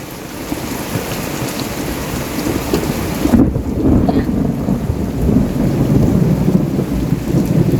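Heavy rain pours steadily in Silang, Cavite, while a deep rumble of thunder swells midway and rolls on beneath the downpour.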